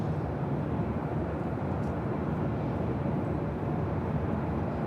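A Lufthansa Boeing 747 taxis at Los Angeles International Airport, a steady, broad engine rumble and roar heard from a distance with no change in level.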